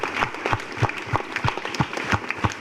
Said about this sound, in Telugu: ఒకసారి చప్పట్లతో ఆనందిద్దామా?